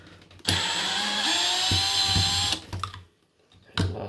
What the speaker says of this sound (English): Putting them in a drill like this seems to be a little better because you can keep the weight on it while they're unscrewing.